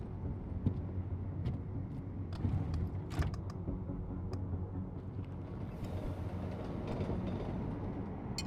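Low steady rumble of a moving train carriage in Deus Ex: Mankind Divided, with occasional faint clicks and rattles over a continuous ride hum, no talking.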